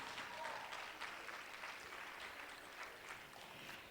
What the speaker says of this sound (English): Let's give those strong boys a round of applause.